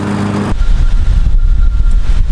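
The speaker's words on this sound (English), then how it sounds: "I'm gonna grab the lawnmower real quick and chop this all up." A lawn mower's loud motor starts abruptly after a short hum and runs on with a rough, churning low rumble close by as it chops up garden plants.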